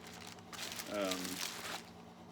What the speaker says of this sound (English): I have a trash bag in case I killed something or needed a trash bag.